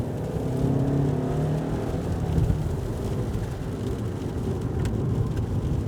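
A 2026 Suzuki Vitara SUV with a turbocharged engine and electric motor revs hard after a downshift, a steady loud engine drone with a rising whir held for several seconds.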